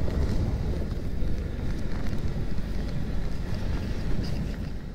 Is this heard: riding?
yes